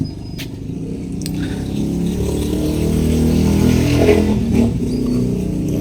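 Cars in busy road traffic pass close by, a continuous engine rumble and tire roar that swells toward the middle and eases off again, with a few faint high clicks and no talking.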